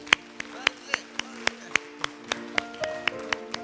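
A church congregation at a Sunday service claps together in a steady, even beat, with crisp unified claps about three per second over sustained, tone-like background sound.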